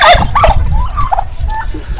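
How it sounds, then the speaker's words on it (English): Birds on a farm call loudly and close by, a run of harsh gobbling, honking squawks over a low background murmur, with no voices. "So here's the ducks."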